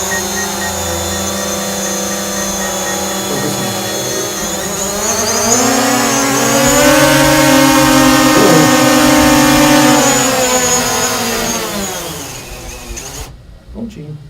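A small drone flying indoors gives a steady, loud, high propeller whine that swells for several seconds and then drops away as it comes down to land and stops. A voice talks faintly underneath.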